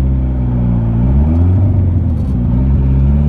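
Mitsubishi Eclipse engine running on a Speeduino controller, a loud close rumbling drone with strong low harmonics whose pitch wavers and rises and falls slightly as the revs shift, with no talking.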